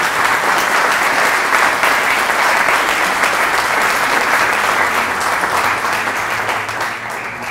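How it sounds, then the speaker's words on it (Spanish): Warm, sustained applause from an audience at a science and technology outreach programme presentation, loud and crowded at first, then thinning and fading toward the end. "Un fuerte aplauso para Gisela y para Ángel,"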